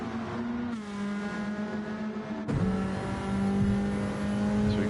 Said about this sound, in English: Just listen to that aggressive exhaust of that car.